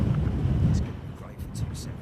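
A deep, rolling roar of large jet engines firing up at London Heathrow before taxiing, heavy and rumbling at a distance, with wind buffeting and a voice talking over it.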